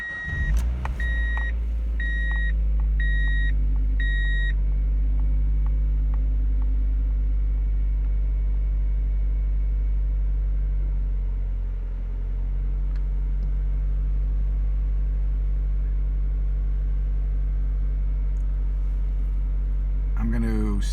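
A Mazda Miata engine idles after a cold start, a steady low hum heard close throughout, opening with a few electronic chime beeps in quick succession.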